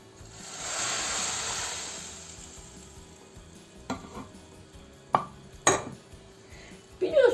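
Soup stirred in a pot, beginning with a soft hissing wash, then a few sharp clinks of a utensil against the pot and scraping near the end.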